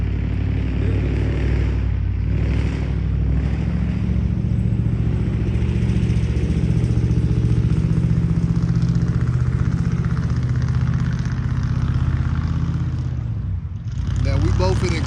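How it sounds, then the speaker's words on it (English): A car engine running roughly, giving a steady, close low rumble that carries on for about fifteen seconds and dips briefly near the end, with people talking over it. "that car ain't supposed to run like that"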